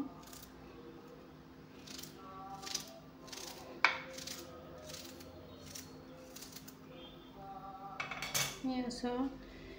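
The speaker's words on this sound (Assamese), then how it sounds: "পিঁয়াজটো এনেকৈ পাতলকৈ কাটি দিছোঁ" A knife slices an onion thinly on a board: a steady run of quiet, crisp taps with one sharper knock partway through, ending in a busier clatter.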